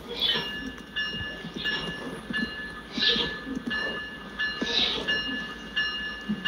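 A Roblox military train led by CSX 5286 rumbles along steadily with a droning engine and rhythmic clatter, periodic bursts rising over the constant mechanical noise.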